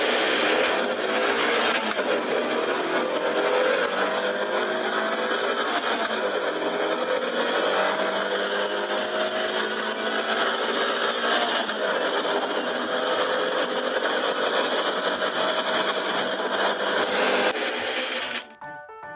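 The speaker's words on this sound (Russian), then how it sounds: "Давай-ка послушаем звук этой машины." Engine of a car from a Minecraft car mod, a steady synthetic drone with rising pitch sweeps running loud and continuous for nearly the whole stretch before cutting off abruptly at the end.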